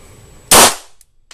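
A handgun at concealed carry training fires a single loud, sharp crack that quickly decays.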